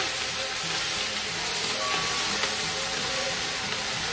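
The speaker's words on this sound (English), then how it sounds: "Let me just give that a turn because I don't want the onion and the garlic to burn." Onion and garlic sizzling in a pan while being stirred, a dense steady hiss and crackle heard up close, continuous and even in loudness with faint stirring movement beneath.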